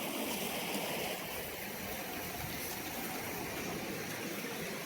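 Stream swollen after a night of heavy rain, rushing and gurgling steadily as a continuous, moderately quiet wash of flowing water with no voices.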